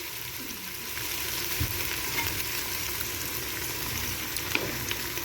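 Chopped ginger frying in oil in a pan for wheat daliya, a continuous close crackle and sizzle with occasional stirring clinks.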